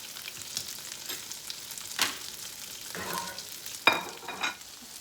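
Food frying in a pan on a stove, a soft steady sizzle with a few faint clinks and stirring scrapes, quiet and close, with no talking.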